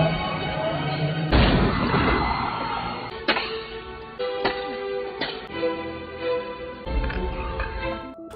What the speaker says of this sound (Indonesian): Martin memecahkan kaca dan mencoba membuka kunci.